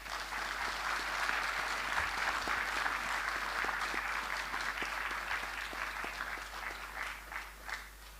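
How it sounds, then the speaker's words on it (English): Sustained audience applause at a Diwali festival crowd, many hands clapping steadily for the whole stretch and thinning slightly toward the end, with a low constant hum underneath. "So I'd like to ask you all to give yourselves a round of applause for everything that you've done."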